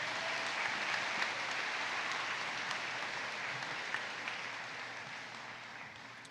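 Graduation audience at Glen Cove High School applauding staff, a broad steady roar of clapping heard from a distance, holding evenly for several seconds before easing slightly at the end.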